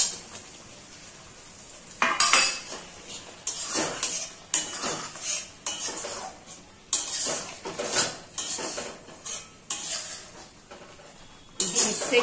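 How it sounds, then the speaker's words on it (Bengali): Prawns go into a cooking pan for a creamy prawn curry and get stirred, giving repeated metallic scraping and clinks of utensil on pan, irregular and close, with a faint sizzle beneath. "চিংড়ি মাছ দিয়ে দিচ্ছি এতে।"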